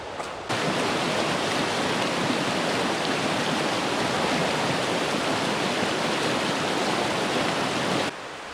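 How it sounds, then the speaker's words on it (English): A mountain stream in early spring in New Hampshire rushes steadily, a constant broadband hiss of flowing water that starts and stops abruptly, loud and close. "I can already hear that stream running,"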